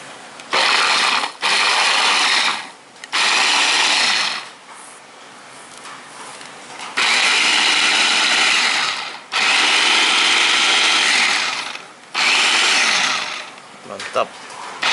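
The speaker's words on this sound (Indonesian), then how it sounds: "Kali ini saya pakai blender." A kitchen blender grinds chopped lemongrass and spices for fried rice seasoning, running in loud whirring bursts with short pauses between them across the whole stretch.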